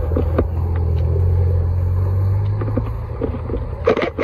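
A Ferrari Portofino supercar's engine idles with a deep, steady low rumble close by on a street, overlaid with faint clicks and passing traffic noise.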